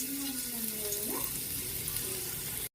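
Garlic sautéing in hot oil in a pan, a steady close sizzle and hiss running throughout with no talk.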